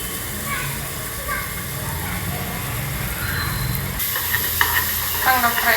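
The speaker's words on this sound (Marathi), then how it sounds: "चांगला फ्राय करायची आले लसणाची पेस्ट" Ginger garlic paste frying in a pan for mutton keema gives a steady sizzle with stirring scrapes, running under a voice and growing brighter and louder partway through.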